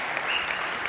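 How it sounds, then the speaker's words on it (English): A large audience at a live motivational speaking event claps in a dense, steady burst of applause, moderately distant and continuous with no voices over it. "how about a round of applause, too, for Royster Productions again, folks"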